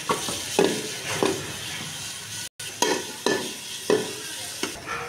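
Chopped onions sizzle in hot oil in a cooking pot while chicken biryani is being made. A steady, close hiss is broken by regular scraping stirs, with a brief cut midway and no talking.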